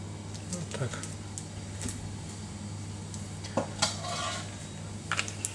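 Vinegar and a tablespoon of sunflower oil stirred together with a spoon in a bowl, giving soft scraping clinks and taps against the dish over a steady low hum, with a few sharper knocks.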